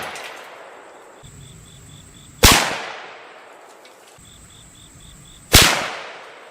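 Two loud, sharp reports from a 7mm Magnum rifle firing Norma Whitetail ammunition, about three seconds apart, each a crack with a short decaying echo, and faint chirping insects carry on between them in quiet open country.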